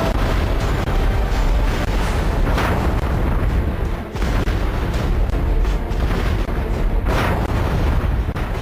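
Continuous heavy booming and rumbling from artillery fire and explosions, a dense, loud wall of blasts with a brief dip midway, without any voices.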